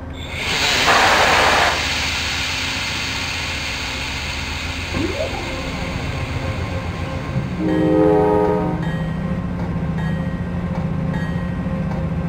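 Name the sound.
air compressor running on a passenger train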